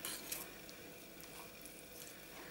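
Soft, faint squishing and light clinks of a knife cutting through something soft and moist, with no voices.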